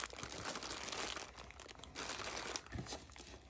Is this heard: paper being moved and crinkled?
yes